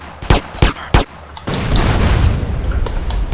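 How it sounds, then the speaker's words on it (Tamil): Sniper rifle shots in GTA San Andreas: three sharp, loud reports in quick succession, followed by a dense, sustained rumble of gameplay noise. "ஸ்னைப்பர்"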